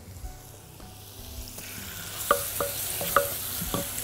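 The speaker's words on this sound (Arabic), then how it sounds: "تشويحة من غير ما الثوم يتحرق" Minced garlic sautéing in butter or ghee in a small saucepan, a soft sizzle building up with a few sharp clinks of a spoon against the pan.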